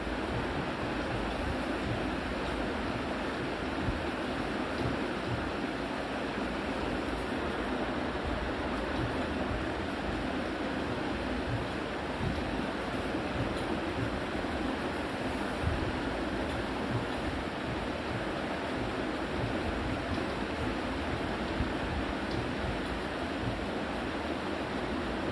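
Surf rolls steadily onto Perappanavalasai beach near Ramanathapuram, a constant broad wash of breaking waves mixed with wind rumble that stays even and fairly loud for the whole stretch, with no voices.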